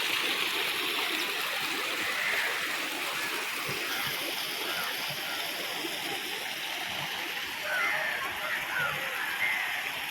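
Vadattupara waterfall near Kothamangalam pours into a small plunge pool it has worn into the rock, a loud, unbroken rushing roar that fills the whole stretch without pause.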